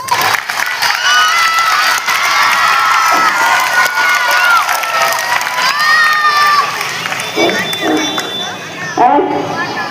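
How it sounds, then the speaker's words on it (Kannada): At a children's day celebration, a crowd of children shouts and cheers loudly and continuously, high excited voices overlapping with some clapping mixed in. "ಚಪ್ಪಾಳೆ."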